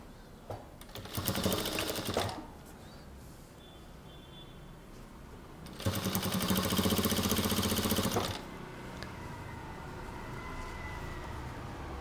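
A sewing machine stitches a half-inch seam on a kurta in two bursts of fast, even whirring, the first short and the second longer, separated by quiet pauses.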